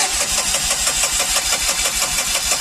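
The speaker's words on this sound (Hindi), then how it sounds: "बस स्टार्ट नहीं हो रहा है बस गाड़ी।" A Tata Ace petrol engine cranks without catching, the starter churning in a steady rapid rhythm for the whole stretch, close and loud with no voices over it.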